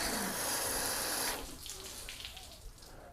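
Rinse water gushes and sheets off sealant-coated car paint with a loud, steady spray hiss that cuts off after a second, leaving quieter trickling and dripping.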